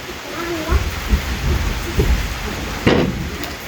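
Rain falls steadily outdoors as a constant hiss, broken by a few low thumps and knocks nearby, with people talking quietly in the background.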